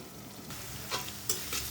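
Chopped onion and green chili fry in a pan for kushi bhaji, a soft, steady sizzle under occasional stirring scrapes, close by and fairly quiet.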